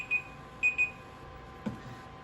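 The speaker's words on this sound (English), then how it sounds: "That's my alarm to tell myself, okay, stop what you're doing, go check on your stock." Short electronic timer alarm beeps, one then a quick pair, high-pitched and clear over a quiet background, followed by a soft click.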